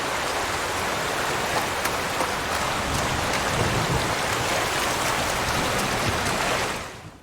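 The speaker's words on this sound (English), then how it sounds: "from the sound of gentle rain as you simply meander through a forest." Gentle rain from the video game Somerville falls steadily throughout, a dense, even patter with no other sounds, fading out at the very end.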